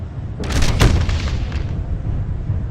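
LRM missile fire in MechWarrior Living Legends: a pair of heavy booming explosions land in quick succession over a constant low rumble of battle noise, loud and close.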